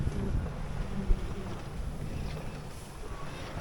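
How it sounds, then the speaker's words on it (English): Steady wind rushes around a sailboat at sea, mostly a broad, rumbling low-frequency roar with a brief gust thump, continuous and close with no voices. "this wind isn't supposed to be here"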